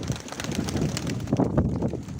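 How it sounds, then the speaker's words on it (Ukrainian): Pigeons from a Mykolaiv flock flap up into the air together, a soft burst of wingbeats and rustling over steady wind noise, with faint cooing close by. "ти відкрив, голуби вгору пішли"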